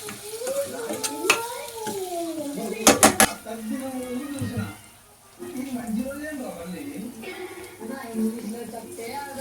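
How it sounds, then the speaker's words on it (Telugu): Chicken sukka masala stirred in a pan, with a metal spoon scraping and clinking against the pan over a soft sizzle, close by and continuous, while a voice hums or sings over it. "దీన్ని ఒకసారి మిక్స్ చేసుకుందాము"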